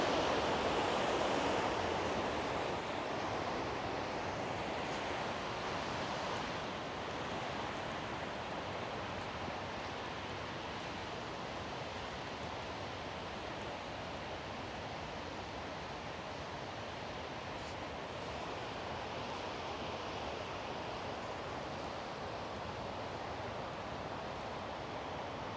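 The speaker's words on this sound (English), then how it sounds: "And there's a nice waterfall there." A waterfall beside the historic locks in Merrickville, Ontario, makes a steady broadband rush of falling water, constant and fairly loud throughout with no break or voices.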